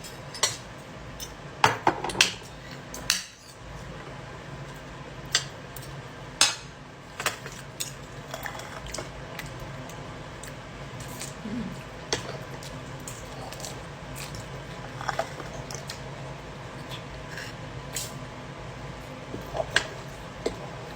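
Cutlery clinks and scrapes against a plate while someone eats a marinated pork chop meal with greens and tomatoes in a hotel room, scattered close taps and soft chewing.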